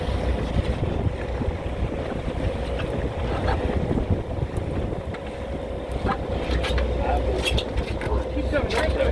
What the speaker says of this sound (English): That wind is picked up.